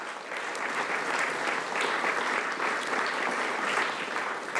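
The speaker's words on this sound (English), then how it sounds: "You can applaud that." An audience applauds at a county volunteer recognition ceremony in San Diego, a dense, even burst of clapping from a large crowd that holds steady for several seconds without talk.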